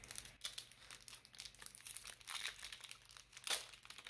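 Crinkling plastic wrapper of a Pokémon card booster pack being torn open up close, with repeated rustling crackles and a sharper rip near the end, no talking.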